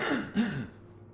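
A single short cough or throat clearing, close by and fairly quiet, trailing off into silence.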